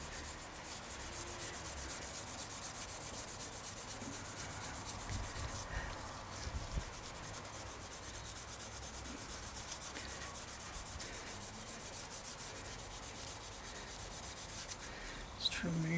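Rust being polished off bike parts during a cheap bike build, a long continuous close rubbing and scrubbing hiss at steady loudness with no talk.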